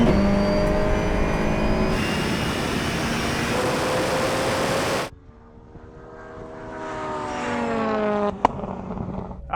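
A Red Bull rallycross car races a Porsche hypercar in a drag race, with loud engine roar and rising, gear-stepped whines of hard acceleration, one passing and fading before another climbs in.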